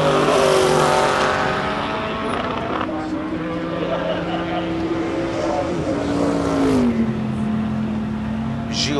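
A race car, an Audi TT 1.8, accelerates at the Simola hillclimb. Its engine note climbs and falls through gear changes, loud and close at first, then receding, while a commentator talks over it.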